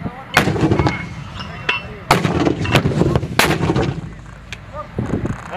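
Mortars fire repeatedly during a military firing drill by Oklahoma troops, a run of sharp, booming blasts in quick irregular succession, loud and close, with rumbling echoes between shots.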